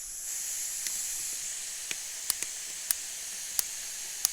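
A portable camping stove hisses steadily at a backcountry canoe campsite, a close, even rush of escaping gas broken by several sharp clicks from the igniter.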